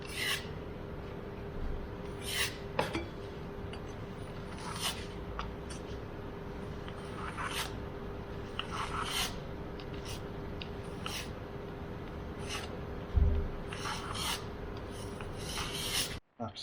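Wall putty on a wall being sanded by hand, with soft repeated rasping strokes at an uneven rhythm, close by, over a steady background hum and no talking.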